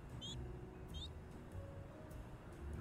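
A cartoon kitten meows a couple of times in Little Kitty Big City. The short, high mews are fairly faint and sit over a steady outdoor game ambience with low background rumble.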